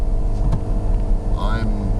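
A car engine drones at full throttle but strains without picking up speed, the transmission refusing to shift with the engine light on, heard steadily from inside the cabin with a brief higher whine near the end.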